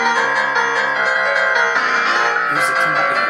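A piano piece arranged in GarageBand, its notes laid out to form the shape of a middle finger, plays as a dense, loud cluster of many simultaneous keys, a continuous smeared wash of chords with no pauses.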